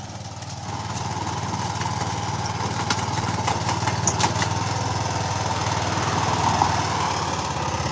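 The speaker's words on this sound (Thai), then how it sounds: "ตัวนี้จะเป็นรถขุดล่องนะคะ" A trench-digging soil tiller runs continuously at a steady mid-pitched engine drone with faint clattering from the digging, close by and without pause.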